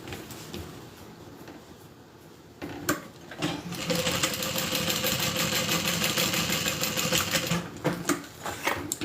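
A sewing machine top stitches along the bottom of a vinyl handbag gusset, a soft hum at first, then a steady rapid mechanical chatter for several seconds with brief pauses and clicks.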